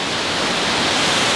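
Steady broadband rushing of a waterfall in a cave, a constant hiss-like roar that fills the space without pause.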